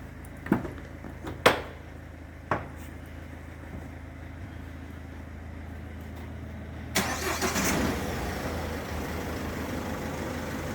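Engine of a 2010 Peugeot 3008 with keyless start, a low steady idle hum heard close, with a few sharp clunks early on and a louder surge of mechanical noise near the end.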